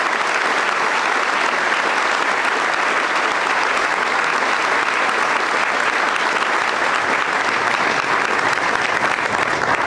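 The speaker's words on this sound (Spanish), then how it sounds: "les demos un fuerte aplauso" An audience at an armed forces promotion ceremony breaks into strong, sustained applause, a continuous dense clapping that holds steady and loud for about ten seconds without speech.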